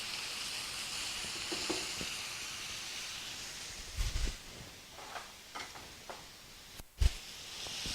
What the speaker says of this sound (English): Give a nice stir to your potatoes.